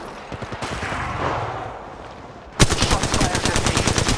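Automatic gunfire in the mobile battle royale Apex Legends Mobile during a ranked match: a rapid, steady burst of shots starts faintly under game ambience, then turns loud and close for the last second and a half.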